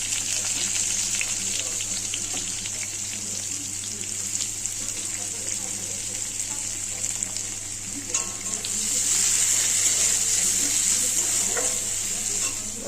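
Onion sizzles in hot oil already used for frying paneer, tempered with cumin, dried chili and bay leaf, giving a loud, continuous close crackle with stirring scrapes that swells brighter near the end.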